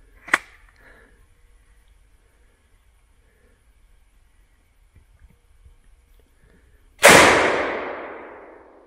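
A single loud rifle shot rings out outdoors and its echo decays over about two seconds, after a faint click earlier and near silence in between.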